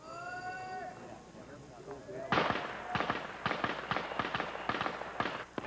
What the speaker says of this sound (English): shooters have just 6 seconds to fire 6 rounds.